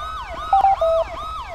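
An emergency vehicle siren in the GTA5 video game, set in a police patrol scene, wails close and loud in rising and falling sweeps, with no one speaking.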